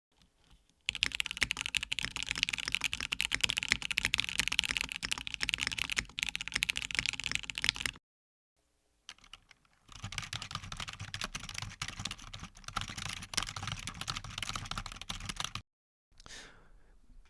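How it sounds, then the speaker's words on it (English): Typing on mechanical and membrane computer keyboards, dense rapid key clatter in two long bursts separated by a short pause, close and alone with no talk. "Here are some short typing demos."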